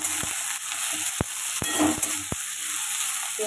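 Neem leaves fry in oil in a pan with a constant close hiss, punctuated by several sharp clicks of a spatula stirring against the pan.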